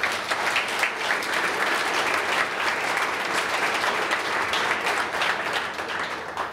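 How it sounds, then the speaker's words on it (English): Steady audience applause fills the room at a university IT staff all-hands meeting, dense and sustained clapping from many people at a moderate distance, with no break or talk. "So let's give that team sort of a round of applause as well."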